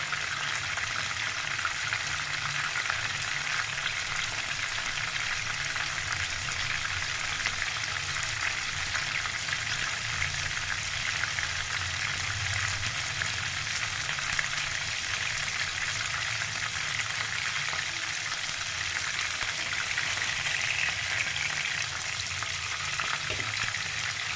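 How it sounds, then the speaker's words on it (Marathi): Paneer cubes fry in a pan until browned on both sides, giving a steady, even crackling sizzle with scattered small pops that holds at a constant moderate level throughout, with no voices. "पनीर दोन्ही साईडने छान असं ब्राऊन होईपर्यंत आपल्याला फ्राय करू द्यायचं आहे"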